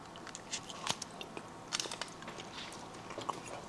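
Someone bites and chews salted butter up close, soft wet crunches and smacks scattered over a faint background hiss.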